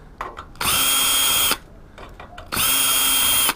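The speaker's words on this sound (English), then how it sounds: "I'll just undo these screws" A power drill undoes screws on a telecom-grade circuit board, whining in two steady bursts of about a second each with a short quiet gap between, close and loud.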